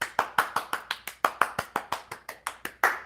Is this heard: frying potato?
no